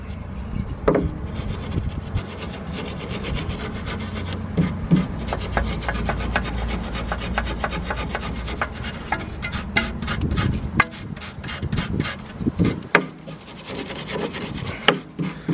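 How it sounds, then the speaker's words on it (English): A wire brush scrubs dirt from the threads of a car's outer tie rod end, giving a continuous rasping scrape with rapid repeated strokes, close and fairly loud throughout. "we're gonna clean it with a wire brush"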